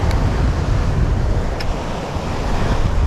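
Sloppy surf and strong wind roll against the shore of an uninhabited island during ocean squalls, giving a loud, continuous roar with wind buffeting the microphone.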